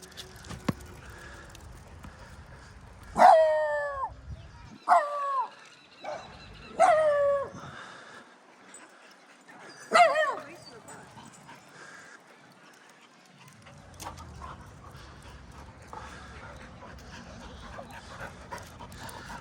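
Dogs give several sharp barks in quick bursts, spaced a second or two apart, with quieter panting and breathy sounds in the gaps.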